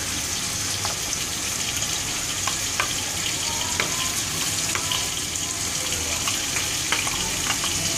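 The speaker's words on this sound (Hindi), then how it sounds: "आप देख सकते हैं ये अच्छे से फ्राई हो चुका है जिंजर गार्लिक पेस्ट से।" Chicken coated in ginger garlic paste fries in a pan, a steady close sizzle with occasional crackles and stirring scrapes, and no voices.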